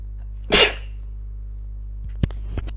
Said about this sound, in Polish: Kichnąłem.